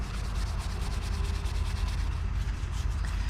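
Steady brisk scrubbing of an aluminum wheel coated in acid cleaner, brushing grime away in a close, continuous, rhythmic rub with no pauses.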